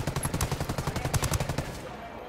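Rapid automatic gunfire in a Ghost Recon Wildlands PvP match comes as a quick burst of about a dozen loud, close shots before tailing off.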